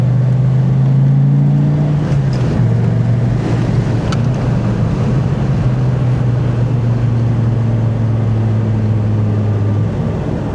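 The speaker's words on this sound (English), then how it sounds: "Listen to that V10." A 2003 Dodge Viper's V10 drones steadily while driving, a loud, continuous low engine hum with a slight pitch rise and fall early on, heard from inside the car alongside road and wind noise.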